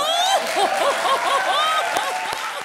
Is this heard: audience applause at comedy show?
yes